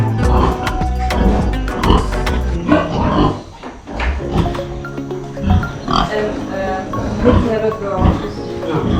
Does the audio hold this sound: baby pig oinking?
yes